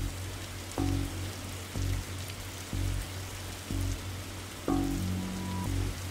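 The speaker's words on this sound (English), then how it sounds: "whenever standing in the rain stops being fun for you." Steady rain patters in the Darkside Detective video game as a continuous wash, while low musical tones pulse and swell beneath it at regular intervals.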